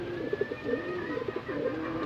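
Soft, low racing pigeon coos repeat in a steady rolling rhythm, close by, with a faint background hum.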